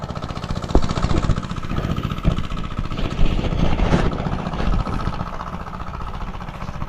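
A farm machine engine running close by, a steady mid-pitched chugging drone with occasional knocks and rattles, heard without talk.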